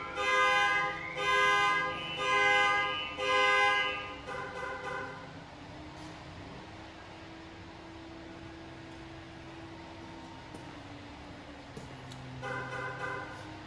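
A car alarm blares in repeated bursts of harsh electronic tone, stops for several seconds, then starts sounding again near the end.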